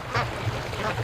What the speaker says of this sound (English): Seeing the ducks play on my lake